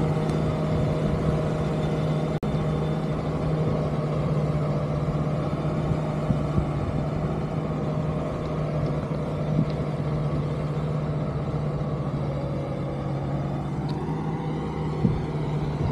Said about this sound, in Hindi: ट्रैक्टर चल रहा है सामने उसे चलने दो